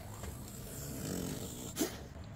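A dog breathes and snorts softly up close while moving into a new camper van, with low steady huffing and one louder snort near the end; no talking.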